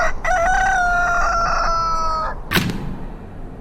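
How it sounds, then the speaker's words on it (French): A rooster crows once, loud and close, in a long rising-then-falling cock-a-doodle-doo that holds for about two seconds, followed by a short sharp cluck. "entendit le message de Ganar le coq"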